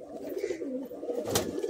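Fancy pigeons such as kamagar, kalduma and nafta, shown at a pigeon sale in Kolkata, give a soft, steady cooing that runs through the short stretch, close and fairly even, with a brief brighter burst near the end.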